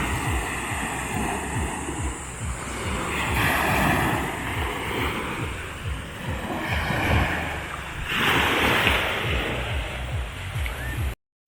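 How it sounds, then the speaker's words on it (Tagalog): Calm sea at the beach in the morning, with soft waves washing in and out under steady wind noise buffeting the microphone, continuous and fairly close. "tingni naman ninyo, kalmang-kalma ang dagat."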